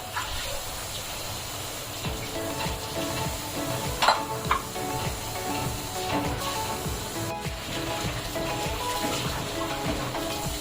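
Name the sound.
eggplant added to the pan and cooking in the mixed bhaji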